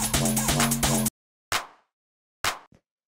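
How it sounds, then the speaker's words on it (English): Powerful clap sample in a warped rave track, first heard over a dense electronic loop, then repeated twice alone as sharp, punchy hits with a short decaying tail. "It's just this kind of like nice, powerful clap sample."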